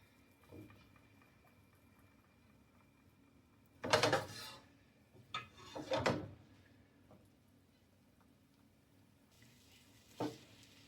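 Chicken frying on a kitchen stove, with short sharp bursts of sizzling a few seconds apart and quiet gaps between them, close by, with no talking.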